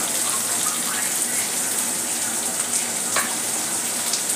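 Carrots sautéed in a pan for Schezwan fried rice make a loud, continuous hiss and crackle with an occasional stirring scrape, close and steady with no talk.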